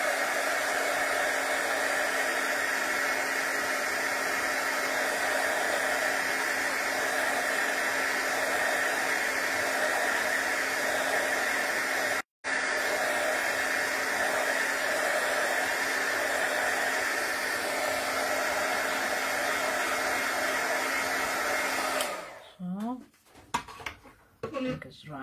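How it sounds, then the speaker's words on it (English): A hair dryer runs steadily to dry a watercolor background, a loud continuous whirring hiss close by that cuts out briefly once and then stops near the end with some handling clatter. "I'm gonna dry this, so I make a little bit noise."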